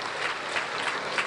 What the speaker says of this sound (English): A resounding round of applause, please.